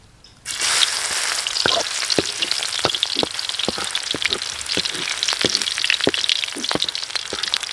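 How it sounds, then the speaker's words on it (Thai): Garlic hits hot oil with a sudden loud sizzle, then fries steadily with crackling pops and occasional scraping of the pan. "กระทะลงเตาให้รอบนะครับ อันนี้จะเจียวกระเทียมนะครับผม"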